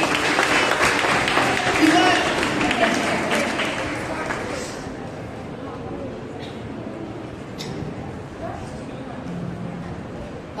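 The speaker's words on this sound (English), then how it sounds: "Let's clap for Ezekiel." At a New Year prayer fellowship, a congregation claps for a one-year-old boy, with strong applause over the first few seconds that thins into scattered claps and murmuring voices.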